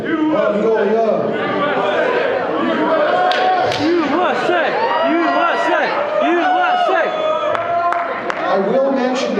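Loud, continuous crowd cheering and shouting at a sumo match, voices rising and overlapping throughout with whoops and chatter mixed in.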